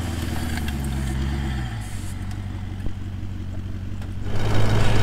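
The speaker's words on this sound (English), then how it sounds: "Luckily, Crawl Control pulled me up and out without a problem." A four-wheel-drive vehicle's engine labouring as it climbs out of a soft riverbed under Crawl Control, a loud low throbbing drone heard close, shifting pitch midway and swelling into a heavier rumble at the end.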